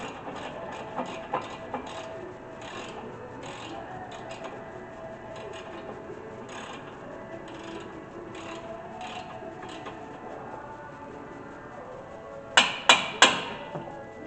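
A hammer tapping on brake parts during a brake and rotor replacement on a 2017 Nissan Rogue, faint clinks early on and a cluster of three sharper metallic taps near the end, over low workshop clatter.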